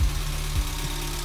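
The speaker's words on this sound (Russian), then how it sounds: "А вот звук от гидриков пока не ушел никуда." A car engine idles with a low, steady hum while its hydraulic lifters keep ticking after fresh oil was poured in, the warning light still blinking; a brief, close, continuous mechanical drone with faint rhythmic knocking.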